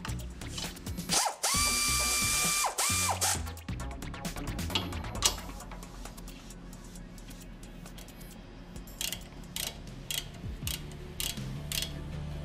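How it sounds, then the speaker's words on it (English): A ratchet tightens the lower strut mounting bolts on a 2001 Toyota Camry fitted with a Monroe Quick Strut assembly. A loud whirring burst comes early, then repeated close clicking strokes run throughout with no talk. "install and tighten the lower mounting bolts"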